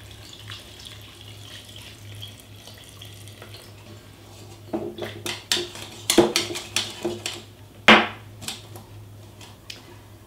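Filtered water from a kitchen tap runs over homemade butter in a bowl, starting as a faint trickle, then splashing louder with clinks of bowl and utensils midway, no voices.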